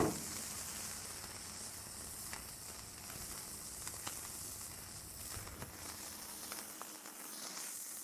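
A burger patty sizzles on a hot griddle for a double cheeseburger, seasoned with kosher salt, giving a steady, close, fairly quiet frying hiss with small crackles and no talking.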